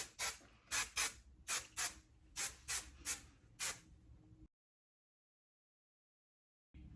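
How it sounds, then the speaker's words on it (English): Bed Head Hard Head Extreme Hold hairspray is sprayed in about eight short, evenly spaced hissing bursts close by, followed by silence. "I'm gonna set it in place with the Bedhead Hard Head Extreme Hold Hairspray."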